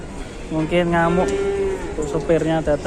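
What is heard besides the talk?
masked cow at a market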